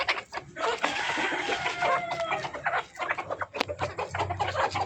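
Native black-and-white spotted chickens kept as farm parent stock cluck busily and close by, with overlapping calls and an occasional crow-like cry over a continuous flock chatter, with no voices.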